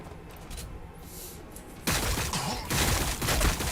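Gunfire in the Warhammer 40,000: Battlesector video game. After a quiet start there is a sudden loud, dense crackle of rapid shots, swelling in two heavy bursts, with no talking.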